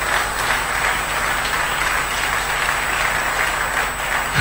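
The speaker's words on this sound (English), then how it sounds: "Let's give them a good clap" A steady wash of clapping from a crowd, continuous and fairly loud throughout, with no talking.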